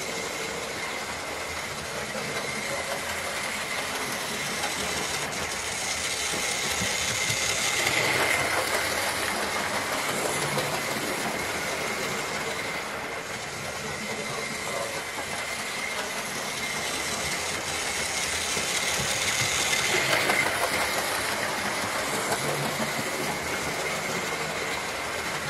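A small model railway locomotive runs steadily along the track, giving off a continuous whirring hum and faint rolling clatter that swells gently twice, heard alone with no voices.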